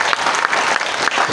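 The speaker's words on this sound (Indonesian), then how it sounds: "tepuk tangan untuk mereka dulu" Short, loud burst of audience applause after a Shotokan karate kata demonstration at a dojo opening, with dense clapping close by and little else.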